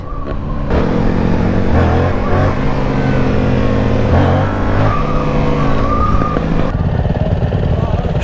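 A loud, near 2024 Yamaha MT-07 motorcycle with an aftermarket pipe revs and idles roughly throughout, its engine note rising and falling with a few throttle blips, and faint voices underneath.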